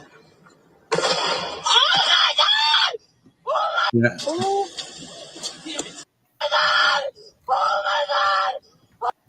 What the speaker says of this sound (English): I can't handle her screaming.